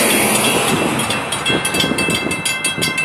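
FEC train 202, led by locomotives 104 and 107, rushes past close by, with a loud roaring rumble, wind buffeting, and a series of rhythmic clattering bursts as the cars go by.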